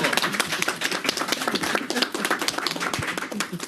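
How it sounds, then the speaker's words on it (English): An audience claps at a mayoral press event on street safety designs, with dense, steady applause of many hands throughout and no voices. "You can clap for her, people."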